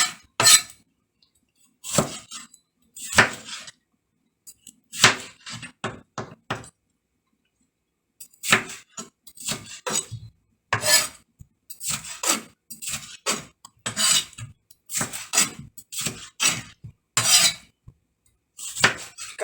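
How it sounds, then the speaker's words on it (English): Knife slicing through a tomato in a home kitchen while making a vegetable sauce: a series of crisp, close cuts and light taps of the blade against a board, coming in uneven bursts with short pauses. "I like slicing my tomato."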